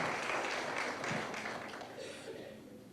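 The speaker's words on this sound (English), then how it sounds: "give the Chamber of Commerce and these other supporters of this Teacher Appreciation Day a big round of applause" Audience applause at a county Teacher Appreciation Day event honoring the Chamber of Commerce and other supporters: a dense wash of clapping that starts full and gradually thins and fades over a few seconds.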